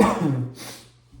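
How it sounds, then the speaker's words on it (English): A single harsh cough burst at the start, trailing off into a breathy exhale and quiet. "Sorry, I'm coughing."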